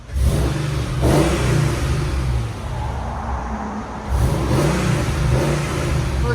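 A modified German V8 four-door sedan of around 600 horsepower with upgraded engine parts revs close by, two sharp blips rising and falling around a steadier mid-range engine note.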